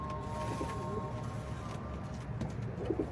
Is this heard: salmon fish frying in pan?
no